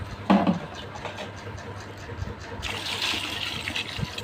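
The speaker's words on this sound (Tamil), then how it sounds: "நல்லா மூழ்கிற அளவுக்கு தண்ணி ஊற்றிக்குவோம்." Water poured into a cooking pot for Tamil tomato water curry (thakkali thanni kuzhambu), a few vessels' worth: a brief splash at first, then a steadier rushing pour toward the end, close by with no talk.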